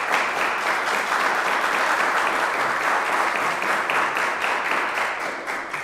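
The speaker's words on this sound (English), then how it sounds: "So let's give a round of applause to our elected officials." Applause in a town council chamber for elected officials: a room of people clapping steadily and fairly loudly, the sound thinning slightly toward the end, with no talking over it.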